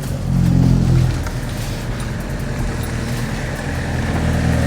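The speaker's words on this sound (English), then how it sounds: "as he's bringing my Mini into the shop" A Mini John Cooper Works F56 is driven into a repair shop, a steady low engine drone and rumble at close range that swells briefly at the start, then holds an even idle-like hum.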